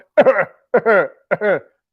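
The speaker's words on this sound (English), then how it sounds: "let me clear my throat." Three short, gruff throat-clearing grunts in quick succession, close and fairly loud, each a brief rasp followed by a voiced rumble, with pauses between.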